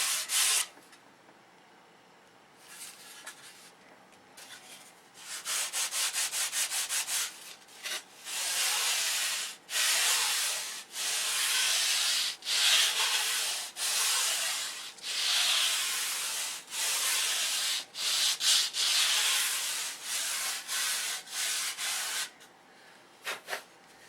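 Aircraft flaps being sanded by hand, long bursts of dry abrasive rubbing that start and stop over and over, close and fairly loud with short pauses between runs.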